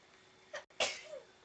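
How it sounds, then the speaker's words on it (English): A single close sneeze during a livestream of the game Kao the Kangaroo, a short sharp burst after a brief catch of breath, alone over a faint background hum. "Keep blessing you every time you sneeze."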